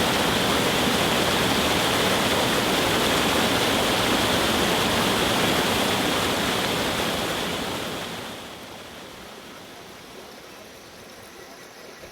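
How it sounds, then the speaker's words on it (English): Water rushes loudly through an irrigation canal beside rice fields in a forest area, a dense steady hiss and roar that drops to a quieter flow near the end. "there is a canal with flowing water in it"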